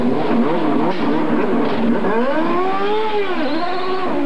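A loud IndyCar engine revs up and climbs in pitch, rising and dipping as it accelerates away from a pit stop at the 1994 Indianapolis 500, with a constant roaring background.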